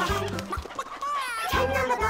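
Hen-like clucking sounds in a cheerful children's counting song, short bursts woven into bright music and sung voices, with a voice seemingly imitating the bird.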